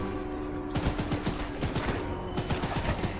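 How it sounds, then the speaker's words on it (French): Rapid machine-gun fire from the player's weapon in the horror game Choo Choo Charles, sounding as repeated loud bursts of shots with short breaks between them, close and alone over a steady game ambience. "Mais pour le plaisir, on va prendre la mitrailleuse."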